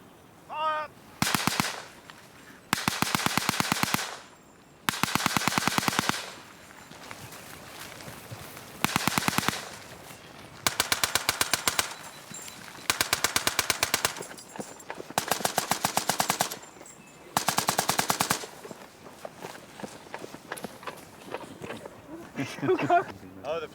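Bursts of rifle and machine-gun fire crackle in a reenacted First World War Somme attack, with sharp volleys repeating every second or two and brief quieter gaps between them.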